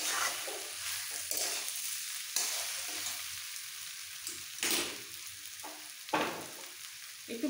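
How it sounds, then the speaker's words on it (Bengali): Water splashed into a hot pan of spiced jackfruit curry, bursts of loud sizzling hiss and bubbling at several points, with stirring scrapes between them, close and with no voices. "এবার দিয়ে দেবো জল।"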